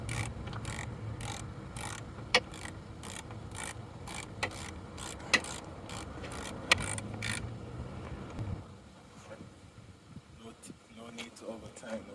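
Repeated ratcheting clicks from a tool tightening a screw on a car's HID headlight ballast, a steady rhythmic run of close mechanical clicks that stops partway, with speech present.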